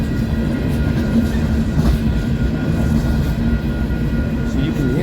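A loaded coal train rolls past in Fremont, Nebraska, its cars running on bad wheels. It makes a loud, continuous close-up rumble with steady rail clatter and grinding from start to finish.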